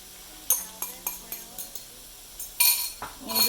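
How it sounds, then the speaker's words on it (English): Beaten eggs scrambled on high heat in a pan with canola oil: a series of metallic clinks and scrapes of a utensil against the pan over a faint sizzle, with a louder stirring rush near the end. "You just want to quickly move with the eggs and scramble them right in here."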